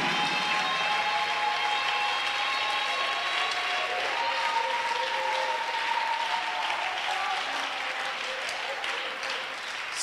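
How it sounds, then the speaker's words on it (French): Church congregation clapping in praise during a French-English service, steady sustained applause filling the whole stretch with crowd noise, loud and continuous throughout. "give the Lord a big clap of praise."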